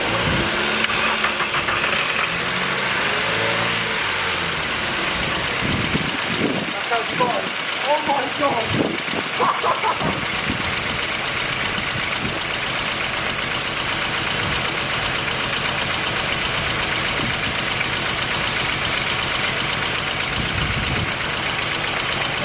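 A rebuilt Mk4 VW Golf engine cranks, catches and runs on a jump start, revving briefly before settling into a steady idle, with people talking and exclaiming over it near the start.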